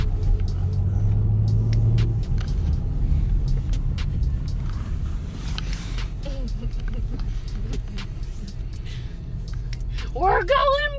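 A car rumbles and drives by close at hand, its low engine drone steady beneath people talking and a short burst of laughter near the end.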